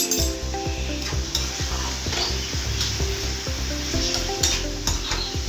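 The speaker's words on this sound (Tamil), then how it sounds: "போட்டு எல்லாம் கொஞ்சம் நேரம் தான் வதக்கணும்." Food sizzles steadily in a hot pan while it is stirred with chilli, soy and Schezwan sauces, idli to follow, the frying hiss constant with repeated scraping strokes of the spoon, close and loud with no talking.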